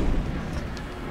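A missile striking a spaceship in Star Citizen, a loud, deep, rumbling boom that rolls on through the whole moment like a heavy explosion.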